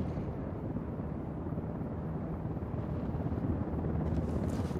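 Helicopter rotor and engine noise in Ghost Recon Wildlands rumble as a steady, dense, close drone that holds at a constant level throughout.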